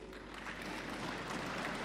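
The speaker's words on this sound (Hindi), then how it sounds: "I didn't say anything for which you need to clap." An audience at a national youth parliament event claps during a speech, a brief, dense wash of applause heard from a distance, fairly faint and steady.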